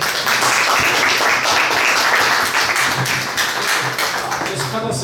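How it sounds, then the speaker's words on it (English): An audience at a startup pitching event applauds loudly and steadily, a dense wash of many hands clapping close by that carries on through the whole stretch, with a voice faintly heard underneath. "Let's give everyone a applause for Malaysia."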